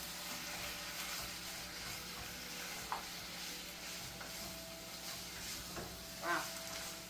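Shrimp lo mein sizzles softly in a pan as it is stirred, a low steady frying hiss with a few brief utensil clicks and scrapes, fairly quiet and without speech.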